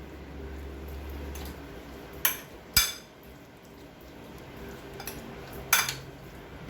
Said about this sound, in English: And then we have to continue mixing.